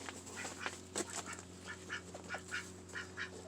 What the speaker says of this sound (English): I think 4 female ducks and a chicken in here